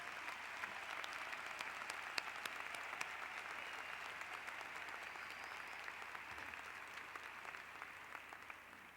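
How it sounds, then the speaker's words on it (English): Faint, distant applause from a 1989 high school graduation audience greets an honored graduate, a thin steady patter of many hands with a few sharper individual claps standing out, sustained for about nine seconds. "David, please stand and acknowledge the applause of your peers, family, and friends."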